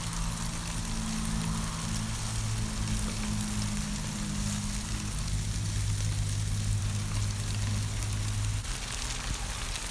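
Cooking oil goes into a hot pan while tandoori chicken cooks, producing a steady hiss and sizzle over a low, even hum, with no talking.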